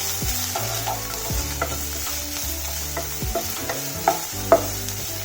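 A spoon stirs chopped capsicum and other ingredients together in a pan for an Indian-style idli sandwich, giving a steady sizzle broken by a few sharp scraping knocks.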